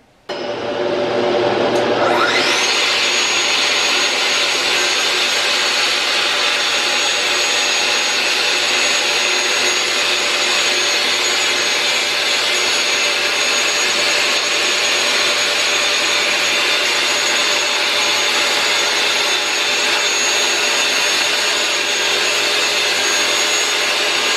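Power saw fitted with a fresh blade cutting a wooden adjustable desktop, spinning up quickly into a loud, steady high whine that runs unbroken for over twenty seconds without any talk.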